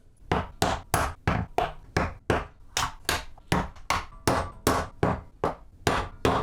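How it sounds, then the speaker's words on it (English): Hammer blows on the frame of an RC Chinook bicopter, about fifteen sharp, evenly spaced strikes at close range, each with a short decay, and no talking. "I'm going to get on with hammering this all together"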